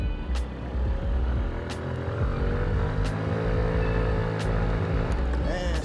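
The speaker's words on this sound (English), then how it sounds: "I'm gonna try to accelerate, get to 15, and then I'm gonna try to engage those brakes and come to a quick stop" A 2023 Honda Ruckus scooter engine hums steadily nearby with a low rumble as it accelerates and then slows to a quick braking stop, with brief clicks and a voice coming in near the end.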